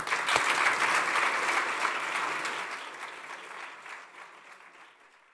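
An audience at a Chatham House panel event breaks into sustained applause for the panellists, loud and full at first and then slowly tapering off over several seconds, with no talking.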